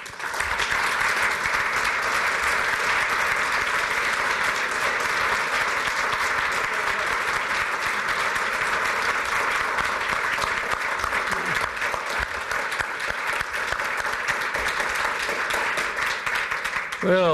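Sustained applause from a symposium audience in Washington, DC welcoming Admiral Lyons, a dense and even wash of clapping that carries on without a break for the whole stretch.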